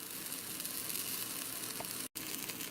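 A crunchwrap frying in a pan, browning on one side, with a steady, close sizzle that holds constant throughout, broken only by a brief dropout near the end.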